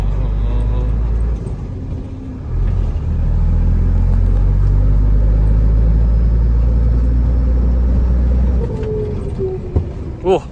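Steady low engine rumble and road noise from a pickup truck running in third gear on a road, continuous and fairly loud throughout with no talk.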